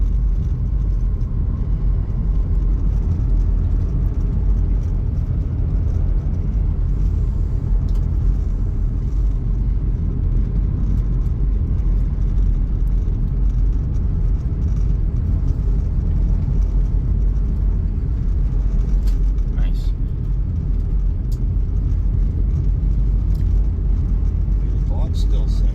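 A 2000 Chrysler Grand Voyager SE minivan drives along with a constant low engine and road rumble heard from inside the cabin, steady throughout, with occasional faint rattles.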